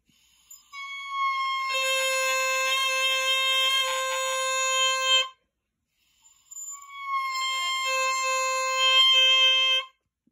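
Oboe reed crowing after balancing, two sustained bright buzzing tones alone, the first lasting about four seconds and the second about three, with a short silence between.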